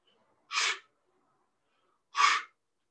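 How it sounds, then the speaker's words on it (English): Two short, forceful breath bursts, close and clear, spaced well apart with silence around them, as someone exhales sharply during a fitness exercise session. "So you see those short bursts of breath that I'm doing?"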